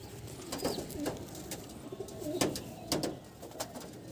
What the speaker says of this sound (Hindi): ये नर है मेरे हाथ में। कबूतर का बॉडी देखिए, बहुत ज़बरदस्त और शानदार बॉडी है।